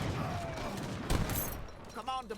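Falconet cannon fire in the game Age of Empires 3 pops out amid a dense in-game battle mix of gunfire and clatter, with a louder burst near the middle, all under steady commentary.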